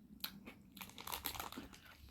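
Chewing on a crunchy chocolate cookie truffle dusted like a truffle, a few brief close crunches and crinkly bites over about two seconds, fairly quiet with no talking.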